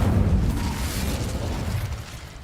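A fire spell cast in the Hogwarts Legacy game gives a rushing, roaring whoosh of flame that starts loud and fades gradually over a couple of seconds.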